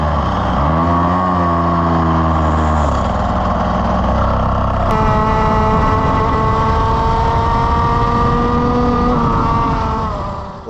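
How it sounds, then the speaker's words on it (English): Race kart engine running flat out on the straight, a loud, close, high-revving buzz that climbs in pitch, dips at a gear change, then holds a sustained steady drone to the end. "we are now running the race engine, which is of course always super quick"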